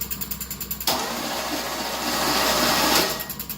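A 350 Chevy V8 in a third-generation Camaro cranks over on the starter with a rhythmic chugging, then a loud sustained whir for about two seconds before the rhythmic cranking resumes, close and without talk.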